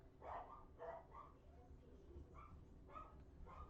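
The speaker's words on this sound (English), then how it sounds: "The sounds of barking dogs." Dogs bark faintly in the distance, several separate yips and barks spread out in an irregular rhythm over a low background hum.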